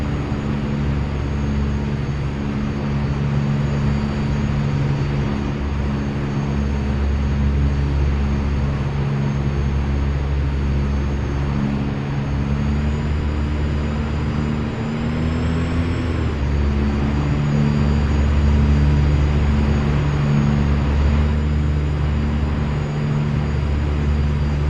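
OV-10 Bronco turboprop aircraft engines in the DCS flight simulator, a steady loud droning hum with low harmonic tones, holding even throughout while taxiing, with a brief pitch wobble midway and no talking.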